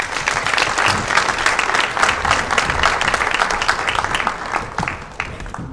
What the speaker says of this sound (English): Let's give Mr. Modiba another round of applause